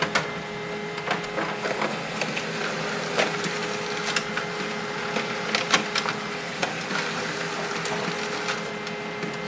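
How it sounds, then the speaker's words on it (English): An HP LaserJet Pro M203dw laser printer works through a two-sided print job, giving a steady whirring mechanical hum broken by frequent close clicks and clacks of moving parts, with no talking. "Now the printer takes some time to process the information"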